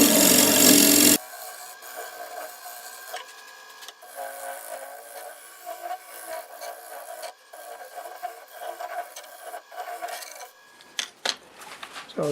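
A sharpened scraper cuts wild cherry wood on a spinning wood turning lathe, a close, steady rasping scrape with scattered tonal rubbing and a brief louder burst at the start.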